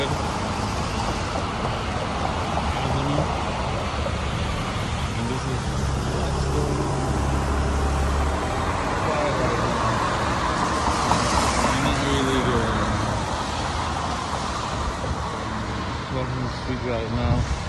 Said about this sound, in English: Downtown Seattle has a little traffic coming up here.